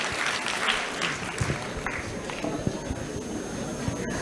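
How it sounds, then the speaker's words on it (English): A conference audience at a national pharmaceutical intellectual property rights event claps in a moderate, uneven patter that fades toward the end. "A huge round of applause for you all"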